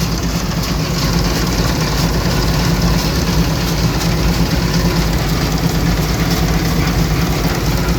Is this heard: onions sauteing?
no